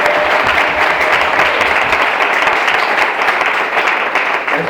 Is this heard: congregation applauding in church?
yes